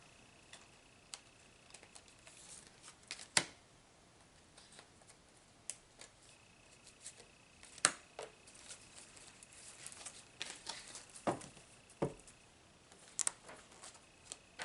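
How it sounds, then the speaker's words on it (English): Cards drawn from a large oracle deck, faint scattered taps, flicks and shuffling rustles at an irregular pace. "I am going to literally pick 2 cards out of this deck for you guys"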